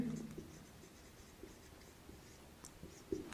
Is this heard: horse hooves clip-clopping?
no